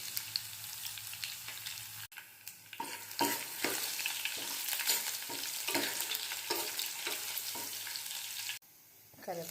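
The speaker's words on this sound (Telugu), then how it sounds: "ఇప్పుడు వెల్లిపాయలు వేసుకుందాం." Garlic dropped into hot oil with chana dal, cumin, mustard seeds and dried red chilies: steady close sizzling and frying with repeated scraping stirs of a utensil, fairly quiet overall.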